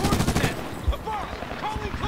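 Rapid bursts of AK rifle gunfire in the Medal of Honor 2010 video game, a dense rattling volley up front that gives way to scattered, more distant shots and whooshing effects.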